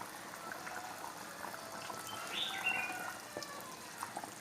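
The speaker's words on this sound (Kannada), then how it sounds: "ಒಳ್ಳೆ ಕುದಿ ಬರ್ತುಂಟು." A pot of pomfret curry bubbles at a steady boil with its lid just lifted, giving a soft, continuous simmering fizz with a few brighter pops, faint and close.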